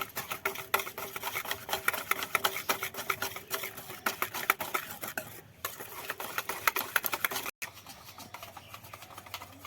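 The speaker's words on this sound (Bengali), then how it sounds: "সমস্ত এই উপকরণ দিয়ে করে এইভাবে ফেটিয়ে নেব" Semolina batter for chitoi pitha being whisked in a bowl, a fast, steady, close-up scraping and tapping that runs on without pause and without any talk.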